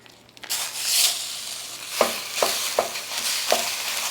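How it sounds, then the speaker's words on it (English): Lean ground turkey browning in oil in a hot pan, a loud steady sizzle with a spatula scraping and stirring in several distinct strokes. "The first thing I'm going to do is brown my meat."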